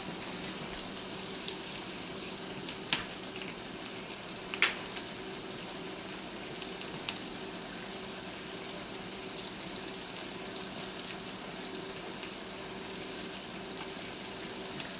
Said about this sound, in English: 1/4 cup of butter to my pan. I'm just going to let that melt a little.